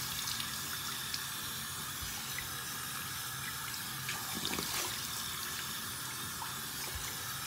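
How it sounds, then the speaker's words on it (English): Lukewarm water runs steadily from a bathroom tap while a face is rinsed, a continuous soft hiss with faint splashes and no talking. "I'm rinsing with lukewarm water."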